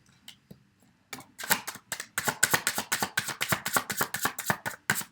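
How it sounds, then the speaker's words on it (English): A deck of cards is shuffled, giving a few soft flicks and then a loud, rapid riffling burst of dense snapping clicks close to the microphone. "I'm going to shuffle these and then shuffle the others and see how they come together."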